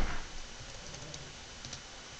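Short command typed on a computer keyboard into a chat-style game lobby, a quick run of soft, close key clicks in a quiet room with a faint background hiss.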